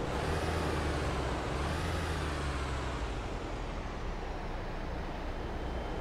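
A Mercedes Sprinter van in a driving game starts up and settles into a loud, steady engine rumble with a brief rising surge near the start, heard alone with no talk.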